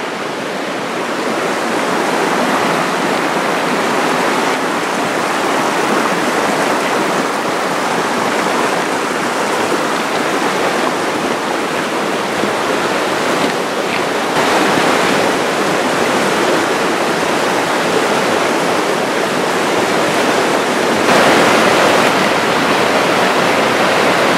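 A knee-deep river at a crossing on the East Fork rushes loudly and steadily, a broad continuous roar of churning water close by with no talk over it.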